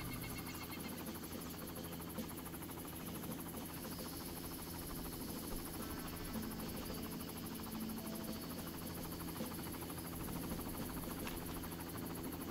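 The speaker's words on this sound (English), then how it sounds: "Waiting for the helicopter to go away." A helicopter hovers in the video game Far Cry, giving a steady, continuous rotor drone with a buzzy whine that holds at an even loudness throughout, with no talking.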